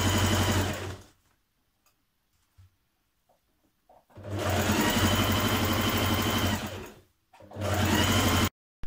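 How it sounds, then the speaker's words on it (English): Sewing machine stitching a 1.5 cm seam to attach lining pocket pieces on a Simplicity 8594 dress, a close rapid mechanical chatter in two long runs separated by a quiet pause and a brief final burst. "we're going to stitch on from here to here our lining pocket pieces"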